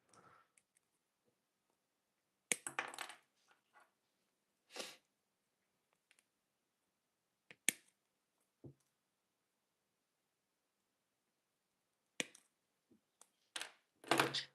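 Hard plastic parts of a Nissan Skyline R34 scale model kit are snipped from their sprues in sparse, sharp clicks and snaps, close and quiet, separated by long silent gaps.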